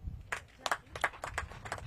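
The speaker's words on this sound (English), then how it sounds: "we should clap for her" An audience at a parliamentary forum on water, sanitation and hygiene claps for an MP, a thin scattering of separate claps rather than full applause, fairly faint and spread across the moment.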